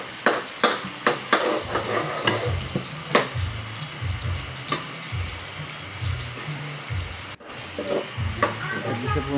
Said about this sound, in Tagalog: Gigisahin na natin ang ating bawang